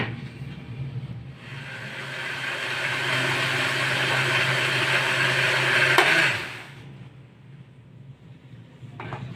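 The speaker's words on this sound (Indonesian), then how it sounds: "lalu kunyitnya, 4 siung bawang merah dan 2 siung bawang putih, lalu kita haluskan." A blender grinds turmeric, four shallots and two garlic cloves into a paste, whirring loudly and steadily for about five seconds before winding down to a faint hum.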